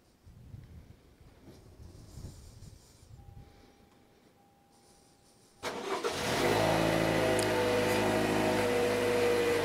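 After a few seconds of quiet background noise with a faint beep, a 2021 Toyota RAV4 engine cranks and catches via remote starter, then settles into a steady idle hum.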